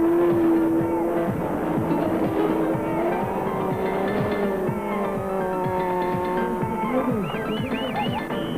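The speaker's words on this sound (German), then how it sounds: "der Burnout eines Motorrades, gekoppelt mit einem tanzenden Hubschrauber" A motorcycle doing a burnout at a stunt show revs hard and continuously nearby, its pitch sweeping up and down, with overlapping droning helicopter tones layered beneath.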